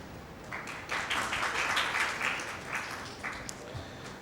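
Audience applause at the Global Digital Summit 2024 in Pakistan: a steady crowd clapping that swells and fades in waves over a few seconds, with faint voices mixed in underneath.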